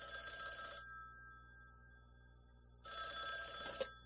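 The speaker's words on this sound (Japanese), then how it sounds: "県警からお電話でございます" Two bursts of a telephone bell ring as a sound effect in a Japanese audio drama, set at a manor where a call from the prefectural police comes in, separated by a quiet gap of about two seconds.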